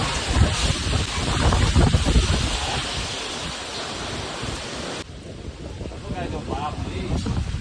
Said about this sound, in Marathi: अचानक जो आला ना वारा